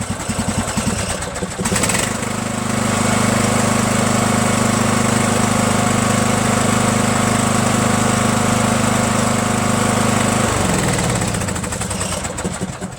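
A Cub Cadet LT1000 lawn tractor's small engine runs close by with a steady, loud, throbbing drone for about ten seconds, then drops off, with no talk over it.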